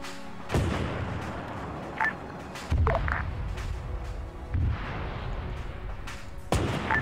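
Tank gunfire and artillery rounds from a World War II Soviet armor battle in Arma 3, heard as several sharp booming shots spaced a second or two apart over a constant low rumble of battle ambience.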